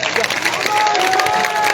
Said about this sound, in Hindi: ताली बजाने से कुछ नहीं होगा,